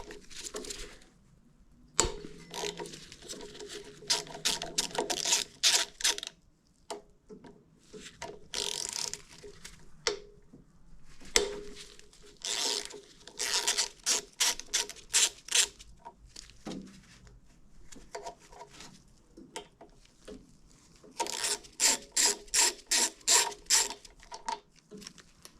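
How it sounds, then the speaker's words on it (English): A ratchet wrench works 12 mm bolts off a Kubota D905 diesel engine, clicking in quick bursts of rapid ratcheting separated by pauses and small handling clatter, close up. "So let's go ahead and get this taken off. These are just 2 12 mils."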